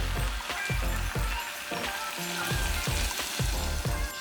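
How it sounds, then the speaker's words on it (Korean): Water pours into a pot of vegetables frying in cooking oil for a curry, a steady loud sizzle and bubbling with repeated splashy bursts, no talk. "이 정도 볶아졌으면은 물 부어줄게요."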